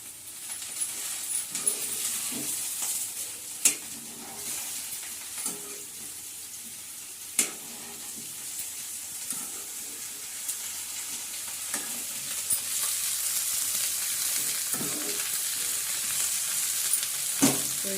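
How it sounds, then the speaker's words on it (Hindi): Cauliflower and potato curry fries in a pan with a steady sizzle that grows louder toward the end, broken by occasional clinks and scrapes of stirring. "अब ये अच्छा से तलना है।"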